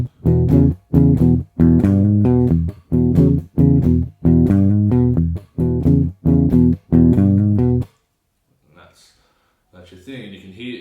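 Blues guitar lick played in open E position, a series of distinct plucked notes and chords in a stop-start rhythm, each ringing briefly before a pause, followed by near silence and a faint tail at the end.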